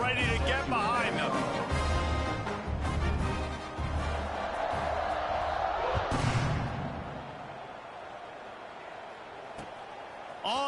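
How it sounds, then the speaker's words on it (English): A stadium crowd roars steadily at kickoff in the video game College Football 26, a loud continuous wash of cheering that swells and then eases slightly, with a game commentator talking over it. "They're set to kick it off, and this crowd now ready to get behind them."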